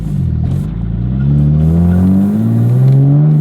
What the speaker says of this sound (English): Kind of a constant misfire